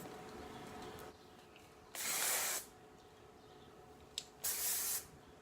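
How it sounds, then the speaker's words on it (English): Two bursts of hairspray sprayed onto hair, each lasting under a second, close and hissing over a low background hum. "finish it off with a little bit of a finishing spray, hairspray"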